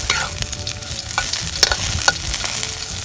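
Colored bánh xèo batter, tinted with syrup, fries in a hot pan, giving a steady close sizzle with scattered crackles and spatter pops and a few light clinks of a utensil, with no voices.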